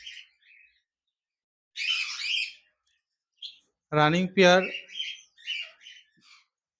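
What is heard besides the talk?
a pair of zebra finches calling in a cage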